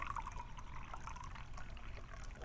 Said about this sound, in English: So I'm going to very carefully pour this into the Pyrex until I have 1/2 cup.